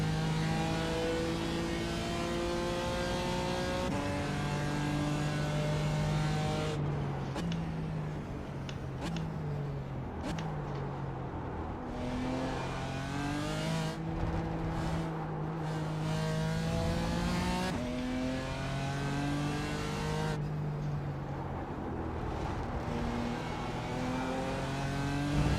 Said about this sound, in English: I am piloting the old BMW